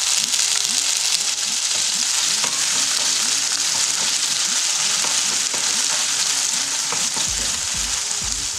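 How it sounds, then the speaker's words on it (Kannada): Boiled chickpeas are stirred in a hot pan while making kabul kadle usli, with steady loud sizzling and frying throughout and repeated scraping stir strokes underneath. "ಈಗ ಬೇಯಿಸಿದ ಕಾಬೂಲಿ ಚೆನ್ನ ಹಾಕಿ ಮಿಕ್ಸ್ ಮಾಡಿ."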